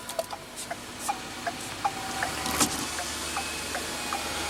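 Power windows on a 2015 Ford Explorer with a 3.5 L twin-turbo V6 running, sounding as a soft motor whir punctuated by a series of light clicks and ticks at close range inside the cabin.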